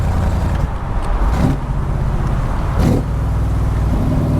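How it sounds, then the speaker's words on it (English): A Backdraft Cobra roadster with a 302 engine drones steadily while driving, its low engine note holding loud and close with a couple of short shifts or surges in the rumble. "Let's get it into 5th gear, see if it slips."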